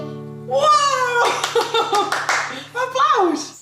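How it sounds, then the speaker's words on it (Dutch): A few hands clap in a quick flurry at home during a Dutch family vlog, the claps mixed in with loud, high, sing-song voices that come before and after them. "Applaus!"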